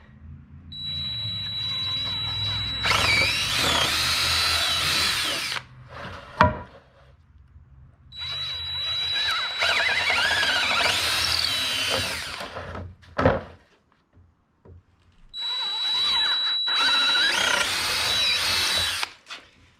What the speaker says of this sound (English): Just make sure when you're drilling that you're drilling straight down